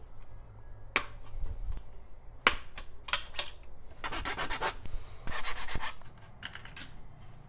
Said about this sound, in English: we'll use a file and make sure those are nice and smooth